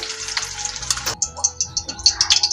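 Chopped green chillies fry in oil with bursts of sharp sputtering and crackles, uneven and close, with brief scraping in between.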